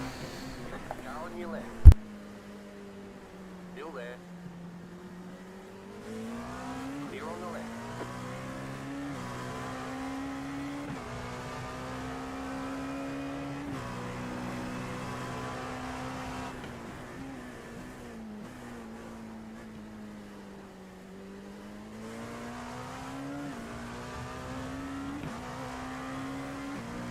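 A race car engine runs on track with another car alongside during a 24-hour endurance race: a steady droning engine whose pitch rises and falls with speed, with talk over it throughout.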